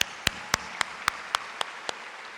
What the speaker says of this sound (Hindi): क्या तालियां नहीं बजनी चाहिए उनके लिए?